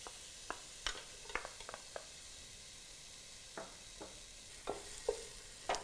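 Onions, ginger and garlic cook in hot oil with a faint steady sizzle, broken by scattered utensil scrapes and taps, close up and quiet, with no voices.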